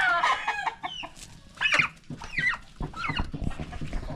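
Chickens cluck in short repeated bursts while a rooster crows, with a turkey kept nearby on the same farm. The birds sound close and fairly loud, with no talking over them.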